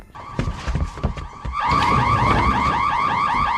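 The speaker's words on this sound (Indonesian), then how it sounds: "tiba-tiba alarm kebakaran di rumah Medi bunyi begitu keras akibat masakannya yang hangus" A loud fire alarm in a house blares continuously with a rapidly warbling, repeating tone, set off by burnt cooking, preceded by a few sharp knocks and clatter.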